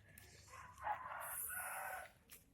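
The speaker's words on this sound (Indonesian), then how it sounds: "Suara ayam kawan-kawan." A rooster crows nearby with a drawn-out call, with some faint clucking, heard in a forest setting with little else around.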